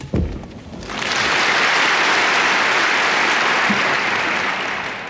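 Crowd applause at a 1979 Friend Providents Masters badminton match, a burst after a short opening sound that swells and holds loud and steady for several seconds before tapering slightly, with no talk over it.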